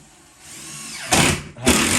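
A power drill drives screws through concrete board laid over extra firm plywood flooring during a rushed privy repair in Tennessee, with a whirring spin-up followed by two loud, close bursts of drilling separated by a brief pause.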